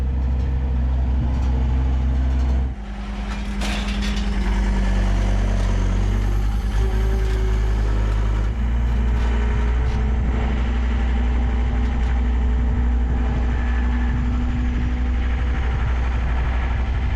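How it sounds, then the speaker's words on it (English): A skid steer loader's engine runs steadily at a rough, low idle, close and loud throughout, with a brief dip and shift in pitch early on and no talking. "His skid steer. It goes a lot higher than ours does."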